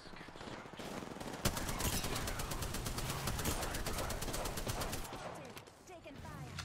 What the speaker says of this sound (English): Taking fire. Getting shot at.